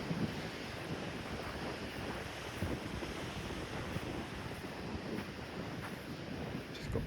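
Strong wind blows over the coast at Dollar Cove in Cornwall, buffeting the microphone in a constant roaring rush, with surf faintly beneath it and no talking.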